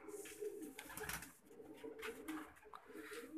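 Paired pigeons kept in a cage coo softly in a few low, rolling calls that repeat over a quiet background.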